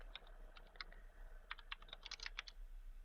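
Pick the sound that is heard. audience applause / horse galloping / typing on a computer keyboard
typing on a computer keyboard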